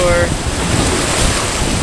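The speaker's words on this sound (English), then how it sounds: "I think there's too much surf." Ocean surf breaks at the Redondo Beach Topaz jetty, a steady, loud wash of wave noise mixed with wind buffeting the microphone.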